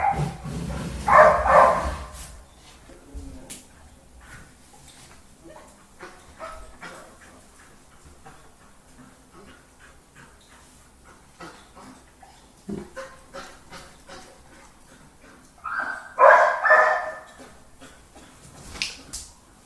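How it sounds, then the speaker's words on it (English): A dog choking on its collar while straining ahead gives two short bursts of strained, yelping barks, one near the start and one later, separated by quiet outdoor background with distant traffic. "there's a dog trying to run ahead, but it's just choking because of the thingy around the neck"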